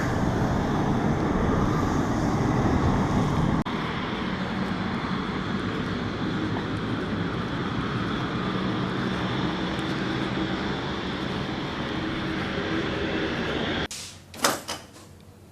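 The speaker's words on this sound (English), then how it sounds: "We parked up while the heavy jets taxied past" Heavy jet aircraft taxiing past produce a steady, loud, broadband engine roar that persists almost unchanged, then cuts off near the end, followed by a couple of sharp clunks.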